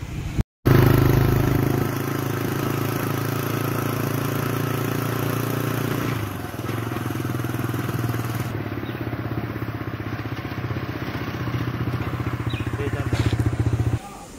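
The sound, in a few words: motorcycle riding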